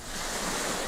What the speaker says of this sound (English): And I'm going to put in crashing waves or wave sounds.